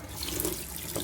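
Water pours from a kitchen tap over pickled mackerel being rinsed, a brief, steady, close gush with no voices.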